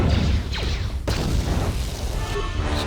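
A frag grenade goes off in Star Wars KOTOR 2, a dull boom amid swooshing combat effects and ongoing battle din over a few seconds.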